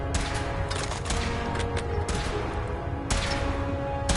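Repeated sharp shots fired during a power suit test in Fallout 4, a few bursts in quick succession over a steady humming drone, fairly close and prominent.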